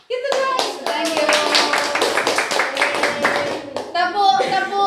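Hands clap in rhythmic patterns of single, double and triple claps during a classroom activity on positive school culture, sharp and close, with voices of children and an adult mixed in.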